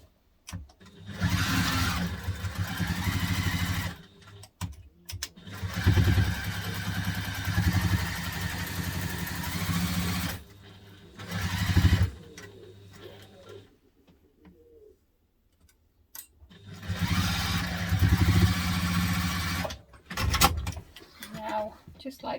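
A sewing machine stitching the bottom seam of a teddy-bear backpack runs in several loud bursts of steady whirring, separated by quiet pauses, with a voice heard between runs.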